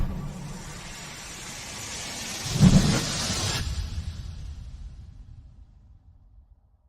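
A thunderstorm effect in a show intro: a swelling rumble that peaks in a sharp, loud crack of thunder, then rolls off and fades gradually into silence.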